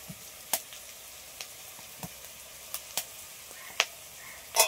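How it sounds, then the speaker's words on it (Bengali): Onion lightly frying in a pan, a quiet soft sizzle under a series of sharp, scattered crackles and pops spread unevenly across the moment. "পেঁয়াজটা একটু হালকা করে ভেজে নিয়েছি"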